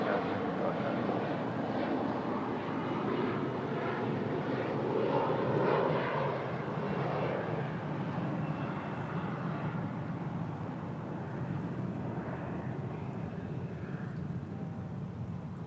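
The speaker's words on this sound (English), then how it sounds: "Sun Country Airlines Flight 427 coming in from Minneapolis on the 737-800." A Sun Country Airlines Boeing 737-800 arriving at LAX from Minneapolis gives a broad, rumbling jet roar that swells and then slowly fades, heard from a distance with steady background noise.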